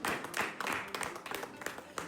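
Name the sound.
clapping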